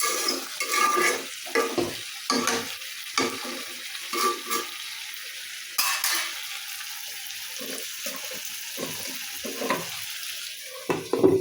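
Meat being sautéed and stirred in a pan on a home stove, steady sizzling with frequent scraping stirs and clinks of the spatula, close and fairly loud, with faint water sounds and no talk.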